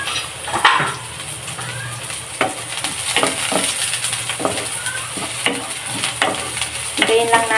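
Onions go into a pan with garlic already frying for pork paksiw na pata, giving a steady sizzle with scattered clinks and scrapes of a utensil against the pan.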